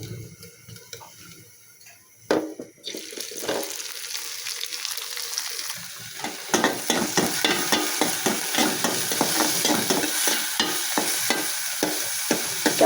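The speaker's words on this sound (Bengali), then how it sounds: "সেই একই কড়াইতে আরেকটু তেল দিয়েছি, এর মধ্যে আমি দিয়ে দিব চাপা শুটকি।" Chapa shutki, dried fish, goes into hot oil in a kadai and fries with a building sizzle, broken by sharp stirring scrapes and clatters. It grows steadier and louder after a quieter start, with no voices.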